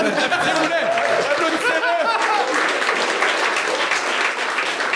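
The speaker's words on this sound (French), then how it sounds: "On peut l'applaudir." An audience breaks into steady applause with scattered chatter and a few chuckles mixed in, clapping filling the whole stretch.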